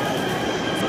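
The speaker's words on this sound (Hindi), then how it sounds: "मेट्रो भी आ चुका है" A Delhi metro train at a station gives a steady rumble and rolling hiss under busy platform ambience, near and even, with no distinct speech.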